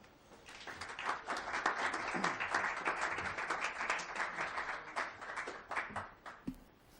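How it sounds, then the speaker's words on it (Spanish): Applause at a book presentation, with an audience clapping in a steady, fairly quiet wash that swells after the first second, holds, and thins to a few scattered claps near the end. "ahora les pido un fuerte aplauso para María Díaz."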